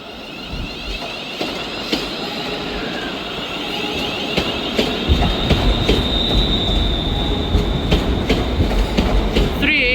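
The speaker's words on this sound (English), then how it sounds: "Departing out now is the 1400 ScotRail service starting here at Glasgow Central to Ayr." ScotRail train departing Glasgow Central station, loud and close: rumbling wheels with clickety-clack over rail joints, sustained high wheel squeal and some metallic screeching as the train pulls out.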